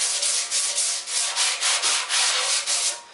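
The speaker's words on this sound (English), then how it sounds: "we're sanding down the first coat of plastic" Sandpaper rubbing down a first coat of plastic body filler on a motorcycle fuel tank, a steady series of close, loud rasping back-and-forth strokes with a regular rhythm, no talking.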